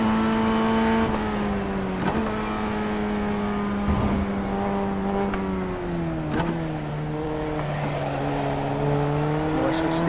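Race car engine in the iRacing sim on a qualifying lap, a loud, droning tone that rises and falls steadily, dropping sharply several times at gear changes and climbing again, with no talk.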